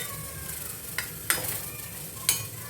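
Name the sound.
stirring pizza topping with soy sauce in a pan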